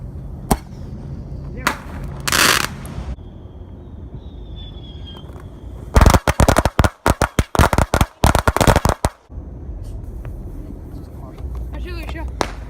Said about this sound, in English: Artillery shot.